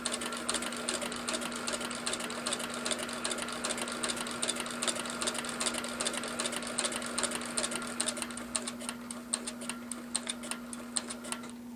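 A Slickbald Class 4 sewing machine back stitches through the same holes, a steady rapid mechanical ticking with a constant motor hum, close and continuous, turning into more separate clicks near the end.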